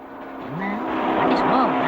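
A large vehicle approaching along a road, its engine and tyre noise growing steadily louder over about two seconds, with voices speaking over it.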